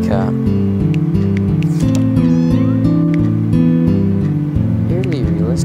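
A cat meows in a video game, its cries heard amid a busy mix of tonal game music and sound effects, all loud and close, with a voice talking over the top.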